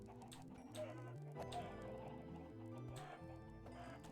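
Chickens cluck in a video game over a dense layer of game music and ambient noise, with soft, scattered clucks repeating throughout rather than standing out loudly.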